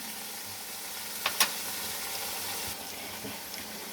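Spice masala paste for a Bengali fish curry frying in a pan, a steady close hiss of sizzling oil broken by a couple of sharp utensil clinks.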